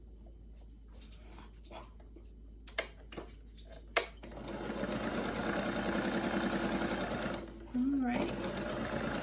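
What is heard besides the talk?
sewing machine stitching quilt patches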